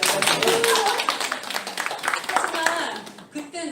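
A short burst of audience clapping during an author's lecture at a reading forum, scattered hand claps mixed with a speaker's voice and some laughter-like murmuring, moderately close and fading toward the end.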